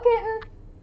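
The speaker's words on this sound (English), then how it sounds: "I hear a cat meowing." A single short cat meow, fairly clear and nearby, fading into quiet.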